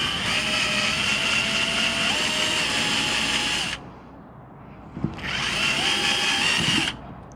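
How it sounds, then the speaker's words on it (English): A basic power drill run at moderate speed removes a screw on a 1993 Honda Shadow VT600 bobber build, giving two loud, whining bursts close by, the pitch shifting mid-run, separated by a brief pause. "Using basic drill, not too speedy."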